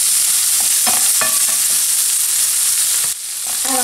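Deer lardons sizzle loudly and steadily in a pan, a dense close-up frying hiss with a few light stirring clicks. The hiss dips briefly near the end.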